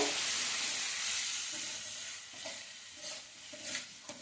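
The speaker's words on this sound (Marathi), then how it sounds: "किंचित परतून घ्यायचे." Boiled pigeon peas sautéing in a spiced curry base in a pan, a bright continuous sizzle that eases off midway, then light scraping stirs and clinks toward the end, nearby with no voices.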